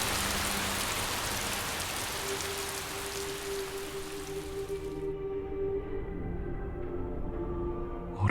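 Steady rain pours on a surface in the Piofiore visual novel, a dense continuous hiss with a faint musical tone rising beneath it midway through.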